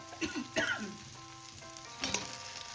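Fried fish head dropped into hot spiced oil with rice for muri ghonto, giving a few bursts of sizzling and crackle, loudest at the start and again near the end, over a low steady frying hiss.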